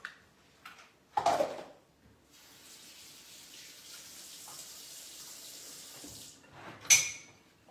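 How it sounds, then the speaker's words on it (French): Hands are washed under a running kitchen tap in the middle of cooking: a brief splash, then a steady stream of water flowing for several seconds before it stops with a final clatter, heard close and without any talking. "je me lave les mains"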